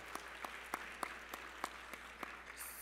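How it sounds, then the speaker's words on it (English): Audience at a conference closing brunch applauding, a steady patter of clapping with distinct sharp claps in a regular rhythm, moderately faint and without talk. "So give them a round of applause as well."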